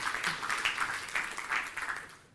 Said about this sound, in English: I would like a big round of applause for Mike and Isabella Russell